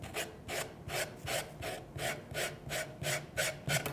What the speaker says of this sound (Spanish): voy a lijar el borde.